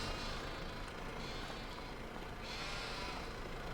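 Sheep bleating on a farm in the Oak Bridge Farm video game, a faint steady animal sound under an even wash of ambient game noise.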